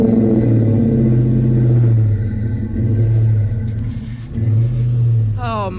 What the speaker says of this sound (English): He's just gonna rev it just a little bit, so you can kind of get a feel for it.